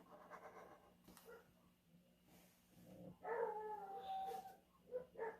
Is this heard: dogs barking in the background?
yes